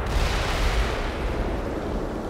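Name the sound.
attack helicopter firing in video game Black Mesa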